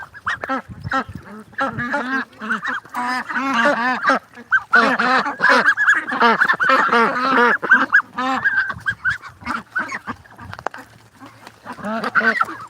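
Ducks on a duck farm, a loud, close flock giving dense bursts of raspy quacking and honking calls in overlapping volleys, with brief lulls between.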